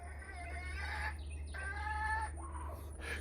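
Chickens cluck in short, irregular calls around a homestead yard at feeding time, over a constant low hum.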